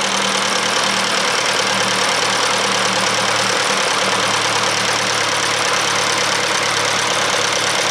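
A small engine fitted to a go-kart built on a 1950s microcar chassis runs at a steady, loud idle with a rough, knocking rumble. It carries on without a break and no one talks.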